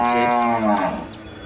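A cow at the Melur cattle market gives one loud, close, drawn-out moo that fades toward the end, with faint market background behind it.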